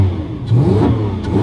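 A Lamborghini Aventador SV engine revs close by, a loud deep throaty surge swelling from idle in a brief burst, alone.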